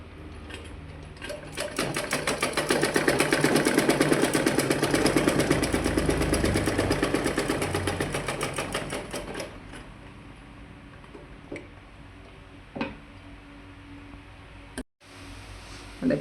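A sewing machine stitches a round neckline in a rapid, even run of needle clatter that swells and then stops, followed by a few scattered soft handling clicks.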